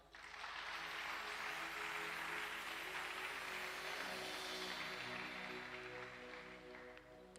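A church congregation bursts into sustained applause, a dense even roar of clapping that swells quickly and holds steady before easing slightly at the end, fairly distant and without talk.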